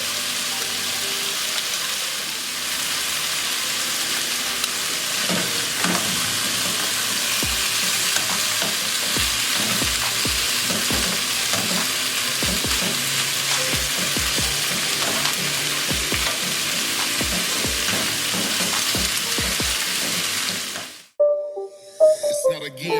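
Chicken wings for hot and spicy wings sear in a pan with a steady, loud broadband sizzle and scattered pops and crackles for about twenty seconds, then the frying cuts off abruptly near the end, leaving a few faint clinks.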